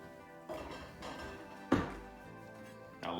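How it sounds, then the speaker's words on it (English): Pieces of galangal for Thai green curry paste are tossed into a mortar and pestle, giving one solid, dull thunk over a quiet room, with fainter knocks before and after. "we'll chuck that into our mortar and pestle"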